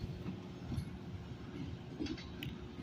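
Freight boxcars on the Depew, Lancaster & Western roll toward Batavia Yard, a low faint rumble with light clinks and metallic squeaks from the cars, heard from a distance with no talk.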